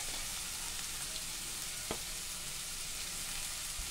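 Green chillies, ginger and spring onion fry in hot oil, a steady close crackling sizzle throughout with no pauses and one brief sharper tick.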